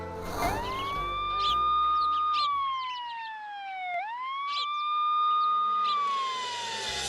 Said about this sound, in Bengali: এক্ষুনি একটা অ্যাম্বুলেন্স পাঠান থানায়।